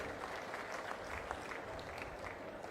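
An audience at a political speech claps steadily, a dense, even patter of many hands that is fairly faint and distant and carries on throughout.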